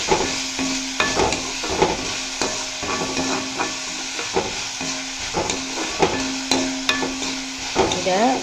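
Drumstick leaves with green chilies sizzle steadily in a pan while a spatula scrapes and taps the metal in a repeated, irregular rhythm, close and clear with no talking.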